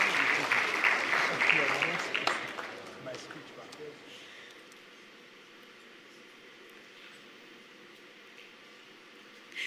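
An audience at an annual meetings event gives a warm round of applause that swells briefly, then fades away over about four seconds into quiet room tone.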